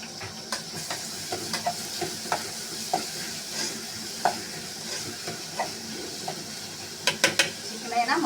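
Onions and green chillies frying in oil for a chicken curry, a steady soft sizzle broken by the scrape and clink of stirring in the pan, close by with no talking.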